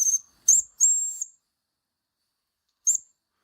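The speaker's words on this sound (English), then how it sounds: "Next is the whistle." Whistle on a Mamod Brunel toy steam locomotive, heard as three short shrill toots in quick succession followed by a pause and one more brief toot, close and clear against near silence.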